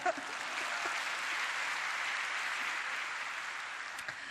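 Sustained applause from a church congregation during a women's prayer gathering, a steady wash of many hands clapping at moderate distance, holding evenly for several seconds before tapering slightly.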